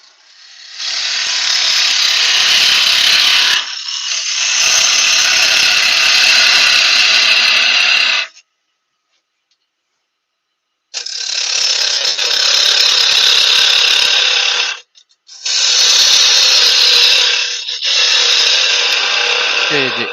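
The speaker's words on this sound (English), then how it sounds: "I'm getting on quite well with that bigger roughing chisel tool." Spalted beech goblet spinning on a wood lathe while a large roughing chisel cuts it, giving loud sustained rasping scrapes in several long bursts broken by short pauses, with no talk heard.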